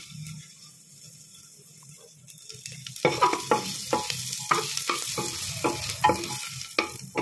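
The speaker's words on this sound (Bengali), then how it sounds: "এবারে বাটারের মধ্যে কিন্তু প্রথমে আমি দেবো এখানটায় যে রসুন কুচি আর আদা কুচিটা আছে সেটা এখানটায় দিয়ে দেবো" Minced garlic and ginger sizzle in butter in a pressure cooker, starting quiet before a strong fry kicks in midway, with repeated scraping stirs clicking against the pot.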